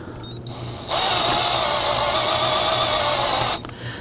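A power tool whirs steadily for roughly three seconds while the accessory belt adjuster is tightened on a 2005-2009 Subaru Legacy 2.5L engine, with a faint hum before it starts and after it stops.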